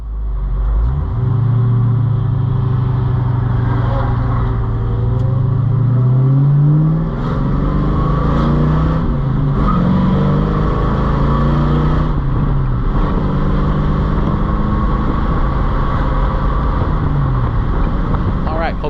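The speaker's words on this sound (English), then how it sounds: "here we'll insert a video of taking the car out around the block" Pontiac Trans Am Bandit car engine running while driving around the block, a loud steady low rumble with rising and falling rev sweeps as it accelerates and shifts, heard close from inside or near the car throughout.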